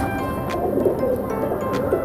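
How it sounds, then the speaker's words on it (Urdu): Batera Sialkoti pigeon with purple feet, cooing in soft repeated low murmurs close by against a steady background hum, with no talk. "بہت ہی پیارا کبوتر ہے"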